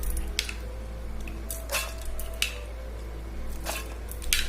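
Thick ground chili paste being scraped and transferred into a mixie grinder jar, with soft wet squishes and a few sharp clinks of a spoon against the jar, close and intermittent over a low steady hum.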